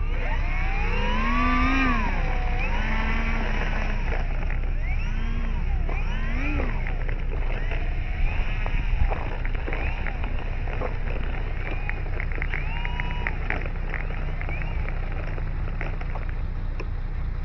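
An Avios Bushmule V2 RC plane taxies on differential thrust, its twin electric motors whining and repeatedly rising and falling in pitch as the throttle changes. A steady background hum sits beneath, and the plane stays fairly close and loud.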